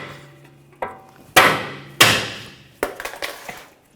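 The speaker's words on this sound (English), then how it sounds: "you can use a hammer. Just tap on the stud." Sharp metallic hammer taps on the outer tie rod stud of a 2007-2013 BMW X5 strike a few times at uneven intervals, loud and close, each ringing briefly before the next blow.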